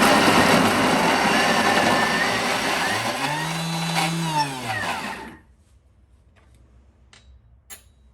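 A food processor grinds celery pulp and mushrooms for a raw vegan veggie loaf, a loud steady whirring roar with a pitch that sags and rises midway, running alone for about five seconds before cutting off to near silence with faint clicks.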